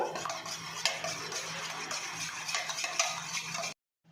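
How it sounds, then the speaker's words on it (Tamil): Three eggs are beaten in a bowl, a fast continuous whisking with light metal clinks against the sides, close and steady for several seconds before stopping abruptly. "முட்டையை நல்லா பீட் பண்ணிக்கோங்க"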